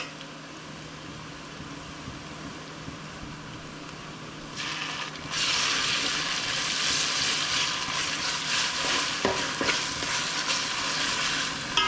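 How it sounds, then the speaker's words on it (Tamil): Ginger garlic paste sizzles loudly in hot oil with softened onions, stirred for ghee rice kuska; a quieter pan hiss jumps to a strong, steady bright crackle midway, with occasional scrapes of stirring. "நல்லா இஞ்சி பூண்டு ஸ்மெல் போகிற வரைக்கும் திருப்பியும் எண்ணெயிலே நல்லா வறுத்தெடுக்கணும்."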